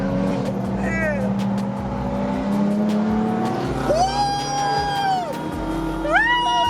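Porsche making acceleration pulls, its engine note climbing and shifting through gears with rising and falling pitch sweeps over steady road noise, loud and close.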